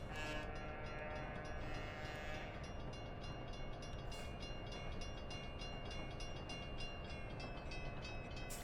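A train horn sounds at a level crossing on the Boston & Albany line in a train simulator. A brief, tonal blast at the start gives way to a continuous loud rumble of the rolling train.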